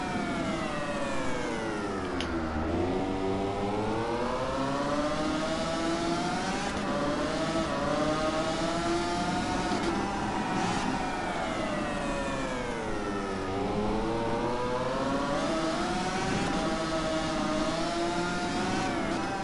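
Racing motorcycle engine in Valentino Rossi The Game, ridden as Márquez's bike, revving continuously with rising and falling pitch sweeps through gear changes and a skidding slide, loud and steady throughout with no talk.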